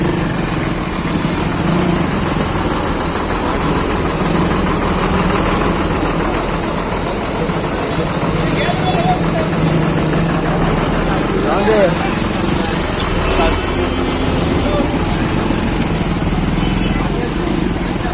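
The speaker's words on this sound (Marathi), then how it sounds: "वाहतूक कोंडी, ट्रॅफिक जाम झालंय." Steady low rumble of several vehicle engines idling together in a traffic jam by Arnala fish market in Virar, constant and droning throughout, with faint voices murmuring underneath.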